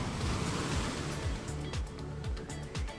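Sea waves along the coast near Anjanvel lighthouse in Ratnagiri wash in as a steady, fairly loud surf, with a few sharper splashes rising through the constant roar.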